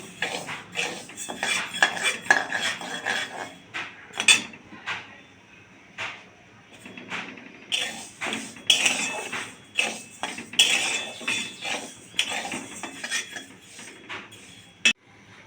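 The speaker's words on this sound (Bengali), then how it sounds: "এটা আমি কড়াতে দিয়ে হালকা ড্রাই রোস্ট করে নেব" Moong dal dry roasting in a kadai, with repeated scraping and clinking of a spatula against the pan in an uneven rhythm, close and fairly clear, with no talking.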